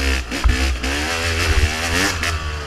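Motorcycle engine restarting after stalling, firing up and revving in a few quick throttle blips over a steady close idle, loud and clear with no talking.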